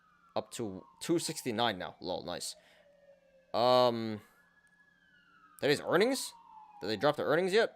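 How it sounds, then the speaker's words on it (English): A siren wails outside, its long steady tone running under and between continuous indoor talk at moderate level. "Sorry about the sirens, guys."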